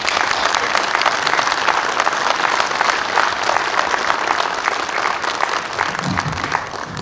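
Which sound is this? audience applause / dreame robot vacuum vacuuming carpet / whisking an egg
audience applause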